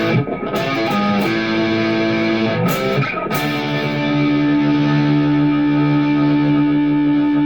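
A Donner 152s Strat-style electric guitar with single-coil pickups plays through heavy distortion with the noise gate off, loud sustained chords and held notes ringing out after a few quick changes.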